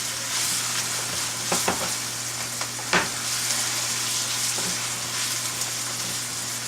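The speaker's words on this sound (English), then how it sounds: "We're going to get that all sauteed there." Cauliflower hash sautéing in a pan with a steady bright sizzle, broken by a few soft stirring scrapes and clinks, close and continuous with no talk.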